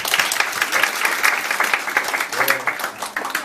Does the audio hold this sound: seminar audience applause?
yes